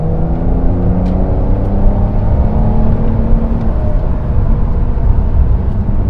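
A 2024 Porsche 992 911 Carrera 4S accelerates with a loud, steady engine drone that rises in pitch through gear-like harmonic sweeps, heard from inside the car with no talking.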